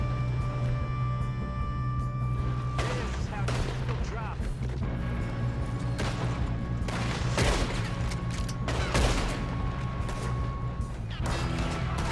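Gunfire in a Red Dead Redemption 2 shootout: repeated sharp shots and bursts of rapid fire crack out at irregular intervals over a steady low background, with voices talking in the game.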